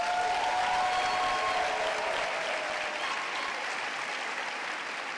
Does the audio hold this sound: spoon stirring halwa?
no